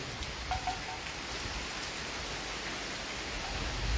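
Soft, steady rain hisses evenly throughout at Karon View Point in Phuket, a broad wash of noise with no other clear sounds.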